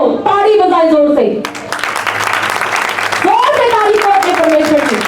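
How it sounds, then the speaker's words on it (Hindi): A church congregation at a sermon breaks into loud, dense applause for a couple of seconds, framed on both sides by a preacher's amplified voice. "ताली बजाए जोर से"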